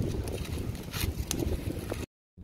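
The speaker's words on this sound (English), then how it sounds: "it's got pretty windy" Wind roars and buffets against the microphone beside a choppy lake at a campsite in a steady low rumble with brief gusts, then cuts out abruptly near the end.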